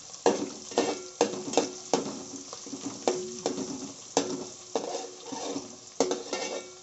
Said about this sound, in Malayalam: ഒരു ഉള്ളി, ഇഞ്ചി എല്ലാം കൂടിയിട്ട് വഴറ്റി എടുക്കുക